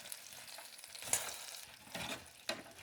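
Air-fried chicken thighs are turned skin side up in the fryer basket, with a few faint, close scrapes and light clatters against a quiet background.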